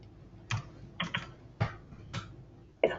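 Five separate computer keyboard keystroke clusters are tapped out at an uneven pace over about three seconds, close and crisp over a faint low hum, some landing as quick doubled clicks, with no voices.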